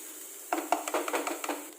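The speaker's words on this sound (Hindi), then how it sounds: "इसको मसाले को भुनने देते हैं।" Spice masala roasting in a pan for tinda sabzi, with a steady low sizzle and a run of scraping, stirring clinks from a spoon against the pan, close and without talk.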